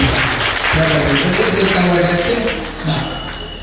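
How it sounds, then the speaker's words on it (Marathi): Audience applause at a Navratri temple event in Hupari rises into loud, sustained clapping from a large crowd, with voices mixed in, then gradually fades. "हुपरीची टाळी ही जगात भारी असते आणि म्हणून हुपरीची टाळी करतो"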